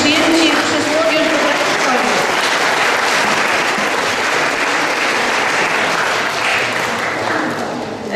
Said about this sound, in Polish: Brawa dla klas pierwszych.